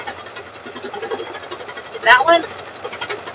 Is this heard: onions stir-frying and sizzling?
no